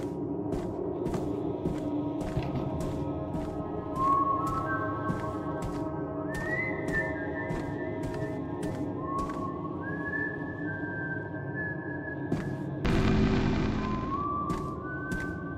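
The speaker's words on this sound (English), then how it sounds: "Right when I said that, I heard whistling." Whistling in the video game Dishwashing Simulator, a series of short rising whistled notes repeating at intervals over a background of clinks and kitchen noise, moderately loud with no talk.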